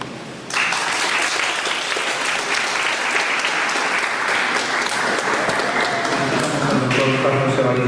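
An audience breaks into strong, sustained applause after a law lecture, starting abruptly and holding as a dense, loud wash of many hands for about seven seconds, with a voice rising near the end.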